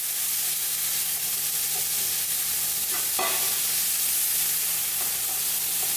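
Grease sizzling hard over an open flame while jajangmyun cooks with a flame-broiled touch, a dense, loud, continuous hiss that holds steady throughout, with no speech.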